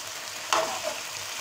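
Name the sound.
stirring spices into chicken karahi in a pan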